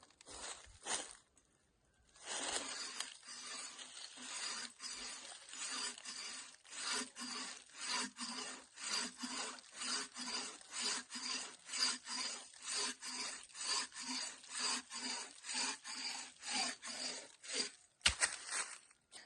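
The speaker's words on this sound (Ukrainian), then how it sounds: "Давайте для порівняння ту саму гілку попробуємо зрізати ось такою пилкою." A cheap Chinese hand saw cuts through a tree branch about 5.5 cm thick in steady rasping strokes, roughly two per second, close and fairly loud, with a short pause near the start and no talking.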